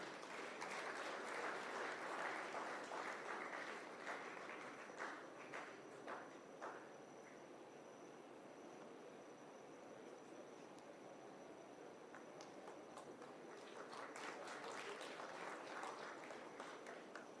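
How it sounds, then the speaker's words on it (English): An audience at a Constitution Day event in Lucknow applauds, a faint, distant patter of clapping that thins in the middle and swells again toward the end. "जोरदार तालियों के साथ अभिनंदन"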